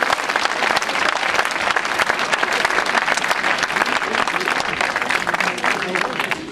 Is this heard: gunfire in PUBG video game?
no